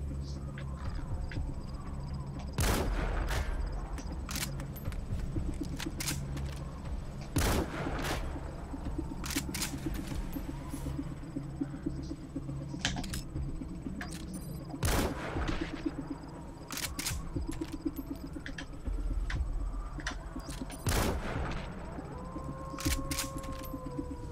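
Gunshots in the video game Metal Gear Solid V: The Phantom Pain, with a handful of sharp, separate cracks spaced seconds apart over a steady, low in-game ambience.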